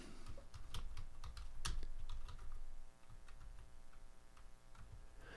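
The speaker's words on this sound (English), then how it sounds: "I'm typing it in right as we speak" Fingers tap quickly on a computer keyboard, a close, fairly quiet run of irregular clicky keystrokes with a few louder hits and brief pauses, in a quiet room.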